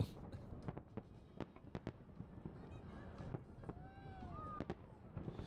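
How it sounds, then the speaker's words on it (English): A fireworks display crackles with a series of sharp bangs and pops at uneven intervals, a few whistling trails rising between them, heard from a distance at low level with voices underneath. "They got little smiley faces that fireworks that look like smiley faces."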